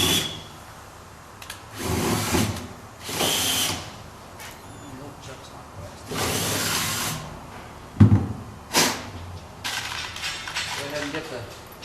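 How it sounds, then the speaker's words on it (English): A power drill bores a quarter-inch hole in a pickup truck bed, with several loud whirring bursts separated by pauses and a sharp knock in between. "Careful that that drill doesn't launch forward and tag the back of your cab when you're doing this."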